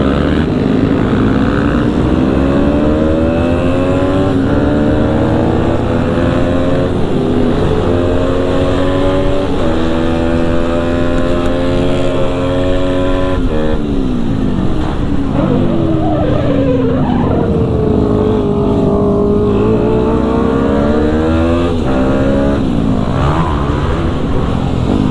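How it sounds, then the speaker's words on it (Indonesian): Supermoto motorcycles on a Sunday group ride rev and pass by loudly, engine pitches rising and falling in overlapping sweeps as bikes accelerate and shift, continuous and close throughout. "Emang ngena ya larinya motor teh."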